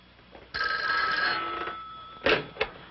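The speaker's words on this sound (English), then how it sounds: "Well, here's the phone. I thought I heard it." A telephone bell rings in a steady burst lasting about a second, fairly close and clear, followed by a couple of short clicks or knocks as the receiver is picked up in a quiet room.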